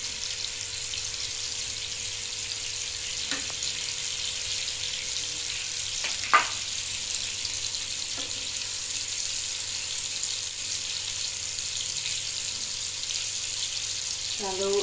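Banana rolls filled with milk and cheese fry in a pan with a steady, fairly faint hiss of sizzling oil, punctuated by a few soft clicks and clinks.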